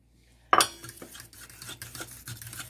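Warm butter stirred into raspberry and lemon scone mixture in a bowl, with a sharp utensil clank against the bowl, then steady scraping and clinking strokes close up.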